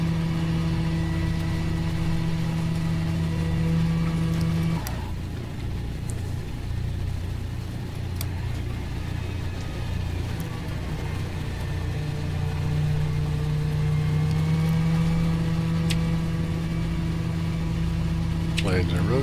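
Douglas DC-3 twin piston engines idling steadily just after start in Microsoft Flight Simulator 2020, a continuous low droning rumble with a brief dip midway, while someone talks over it.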